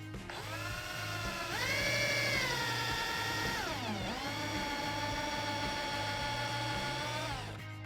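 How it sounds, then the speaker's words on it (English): A power drill with a 5/32 bit whirs continuously, its whine climbing and then dipping as it bites through a Can-Am Spyder panel, over a low rhythmic mechanical hum. "take a 5/32 drill bit and drill from the outside all the way through"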